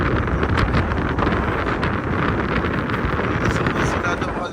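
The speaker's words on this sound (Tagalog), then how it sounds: "sobrang lakas ng hangin" Strong, loud wind buffets the microphone continuously at Malico, San Nicolas, Pangasinan, a rough roaring gust that never lets up.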